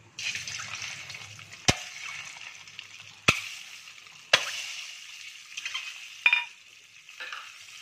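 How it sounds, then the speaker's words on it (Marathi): Eggs frying in oil with turmeric in a wok, a steady crackling sizzle with a few sharp clatters of the spatula against the pan and bursts of spitting, close and moderately loud. "कढईमध्ये मी तेल घातले, हळद घालते थोडी आणि अंडी घालायचे।"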